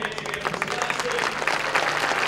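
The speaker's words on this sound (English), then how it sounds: "Huge applause in this big crowd, Andrew, for Sadar Singh." A big crowd at a Kookaburras versus India field hockey match applauds for a player's 200th international cap, a dense, loud, continuous wash of clapping with no one speaking.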